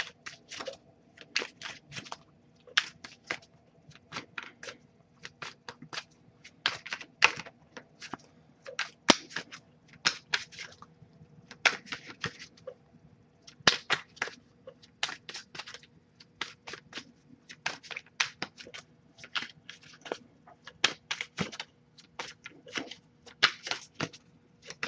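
Tarot cards being shuffled over and over, quick crisp riffling bursts in an irregular rhythm, close up and fairly quiet.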